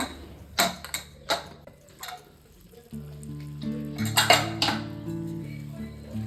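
Opening a pressure cooker of chicken donne biryani: several sharp metallic clanks and lid scrapes ring out close by, then a steady low hum and further clattering of the pot follow.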